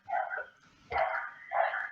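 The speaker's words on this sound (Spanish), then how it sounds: "Tienes un nuevo perrito" A small pet dog lets out three quick yappy barks at a moderate distance, with short pauses between them, heard faintly in the background of a remote meeting.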